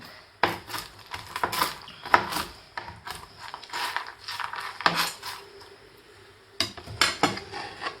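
A knife chops walnuts on a board for chocolate chip cookies, with quick irregular bursts of close, crisp cutting taps and small clatters, a short pause near the end before a few more chops.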